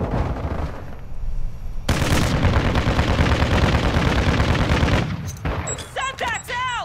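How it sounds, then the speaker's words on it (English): Dense, sustained automatic gunfire and volleys of shots in a Modern Warfare 2 battle, loud and continuous for several seconds, then breaking off as voices shout over scattered noise. "Taking effective fire!"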